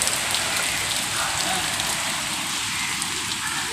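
Steady rain falls over an open village ground, a broad even hiss and patter of drops holding at a constant level throughout with no clear voices.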